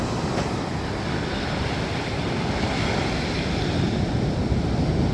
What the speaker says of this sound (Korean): 이런 파도가 칠 수 있을까